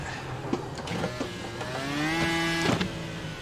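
A video game race car engine whines as it revs up with a rising harmonic pitch that holds steady, then drops off amid a few short clicks, with no talking.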